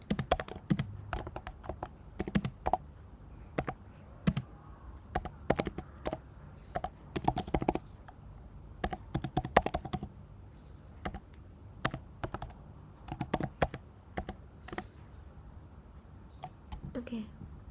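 Rapid bursts of keystrokes on a computer keyboard as a command is typed into a terminal while deploying NGINX on Kubernetes with Minikube, irregular clusters of close clicks with short pauses between them.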